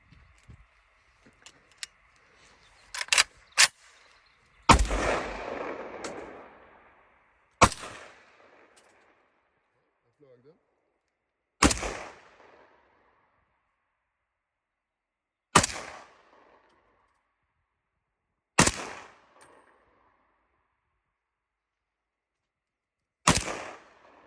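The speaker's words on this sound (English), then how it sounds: "it's time for our Viet Cong man to shoot his Viet Cong gun" Single shots from an AK rifle loaded with Chinese ammunition at a shooting range, sharp loud cracks spaced several seconds apart with brief echoing tails and quiet gaps between.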